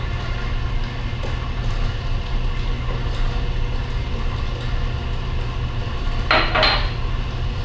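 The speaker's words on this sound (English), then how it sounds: "We're going to slowly add the eggs while it's still mixing." A stand mixer runs steadily while eggs are added to chocolate chip cookie dough, a constant mechanical hum with a brief rattle of clinking near the end, no talking.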